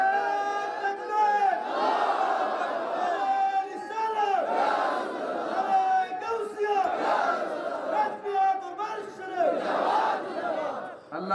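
A large crowd at a religious sermon gathering chants a slogan together, loud and sustained, rising and falling in repeated surges, with voices blended into a roaring call.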